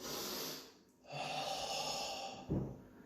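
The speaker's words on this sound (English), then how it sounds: "take a few deep breaths" Quiet, close breaths during a Shito-ryu karate class: a slow inhale and exhale, then another long breath ending in a short snort-like puff.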